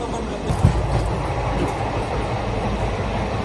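A steady low rumble of a moving passenger train in West Bengal, near New Jalpaiguri, fills the clip, with a brief knock near the start and no clear voices.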